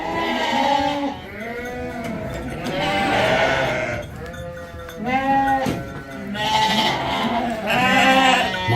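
Lambs for sale bleat repeatedly from a pen on a farm, several overlapping calls near and loud in irregular bursts, with a voice occasionally heard under them.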